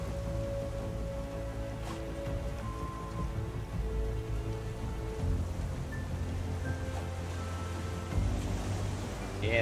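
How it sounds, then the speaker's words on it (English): Rain falls steadily at sea in the survival game Raft, a constant mid-level patter over wave wash, with sustained tonal game sounds layered on top and no clear talking. "How are we not able to drink the rain?"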